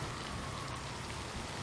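Steady rain pours throughout a dramatic night scene from the Daredevil television series, a dense, even hiss of falling water with no pauses, heard alone without voices.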